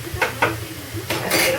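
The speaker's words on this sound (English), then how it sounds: "Get a spoon, mix it up." A spoon stirs an apple brine for a holiday turkey, producing a few close, bright clinks and scrapes against the container in quick succession.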